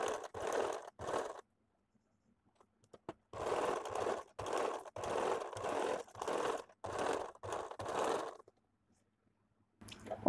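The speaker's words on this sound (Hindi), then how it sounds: "अभी देखिए यहाँ पे सिलाई देना है।" A sewing machine stitches a princess cut blouse in short rhythmic runs: three quick bursts, a pause, then a longer string of steady stitching pulses, close and alone with no talk.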